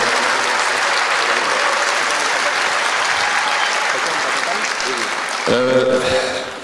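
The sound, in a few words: applause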